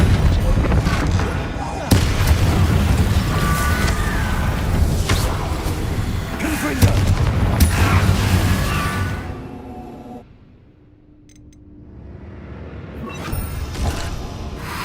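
Loud, booming blasts from the Bombarda spell in Hogwarts Legacy come in heavy, dense bursts with whooshing and crashing debris, then the din drops off abruptly into near quiet before rising again.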